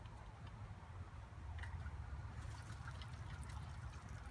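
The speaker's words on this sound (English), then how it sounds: "A little bit of water bubbling out" Water bubbles and trickles out of opened sprinkler system valves, cracked a quarter turn with a screwdriver ahead of an overnight freeze; a faint, steady gurgling burble close by with no talking.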